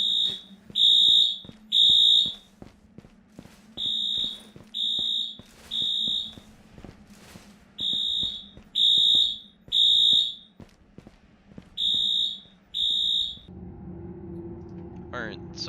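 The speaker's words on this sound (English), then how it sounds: "Fire alarm." A fire alarm in the video game Dead Matter sounds a series of sharp, high electronic beeps in pairs and triplets, loud and insistent, over a faint low hum. A different rumbling sound takes over near the end.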